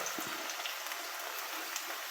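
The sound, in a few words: onions, garlic and curry leaves sautéing in a pan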